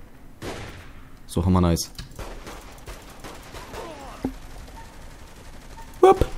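Sniper rifle fire in the video game Saints Row III: a few sharp, loud gunshot bursts spaced apart, with casual talk from players running between them.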